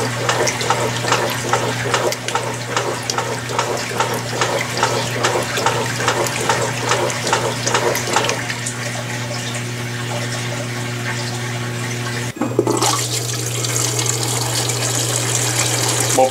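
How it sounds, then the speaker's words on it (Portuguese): An Electrolux Premium Care 13 kg washing machine draining water, with a steady gush and rhythmic pump churn over a low motor hum, then a clunk as the flow changes. "iniciou a drenagem"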